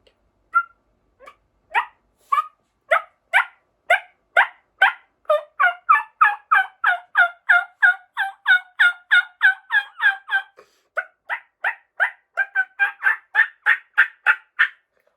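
A voice imitates wild turkey hunting calls, a long run of sharp, evenly spaced yelps that speed into quicker cutting notes, loud and close with brief pauses between bursts.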